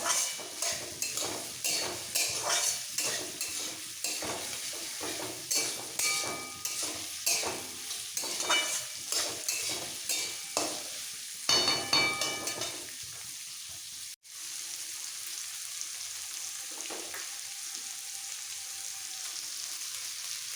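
Egg fried rice ingredients with capsicum being lightly fried and mixed in a pan: rhythmic scraping strokes of a spatula over a constant sizzle, then a quieter steady fry after a brief pause.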